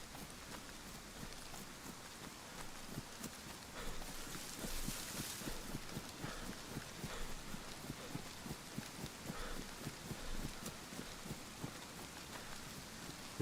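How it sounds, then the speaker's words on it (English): Rain falls in the survival game DayZ as a steady, faint patter of drops on surfaces with a soft background hiss, plus a rhythmic clopping like footsteps running through the wet. "This would have been a damn sight easier if it hadn't been raining."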